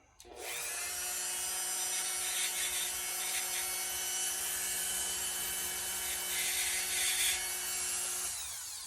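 A brass part twirled against a bench grinder to take off a burr: the grinder's steady high whine and rasping contact noise start abruptly, run evenly for about eight seconds, then fade as the part comes away.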